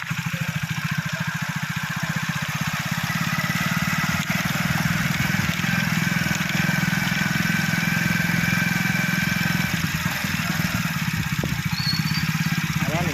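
A motorcycle engine runs steadily throughout during a riding lesson, a continuous close drone with slight changes in pitch and no break.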